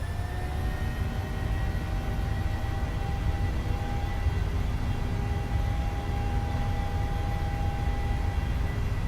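Jet engines of a PMDG 737 airliner in a flight simulator building to takeoff power, a steady loud roar with sustained whining tones and low rumble throughout, no voices.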